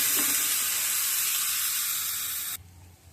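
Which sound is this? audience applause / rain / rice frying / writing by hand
rice frying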